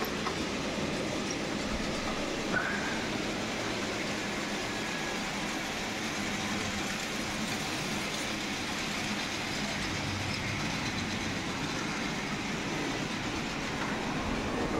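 A Roco model locomotive runs steadily along its track, a continuous rumbling rattle with faint clicking, close by and unbroken throughout.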